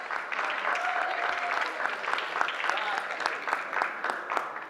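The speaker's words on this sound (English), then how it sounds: "Let's give these people a proper round of applause." Wedding guests applauding the people who contributed, a steady mid-level round of clapping from a gathered crowd with individual claps standing out, while faint voices and a brief whistle-like tone come through underneath.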